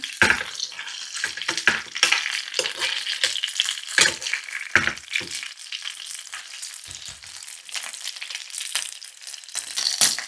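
Beef frying in a pan, close, with irregular crackling and spattering bursts of sizzle that rise and fall throughout, without talk.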